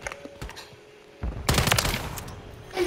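Video game gunfire: a quiet stretch with a few isolated clicks and shots, then a loud burst of rapid automatic fire from about halfway that keeps going to the end, close and dense with no talking.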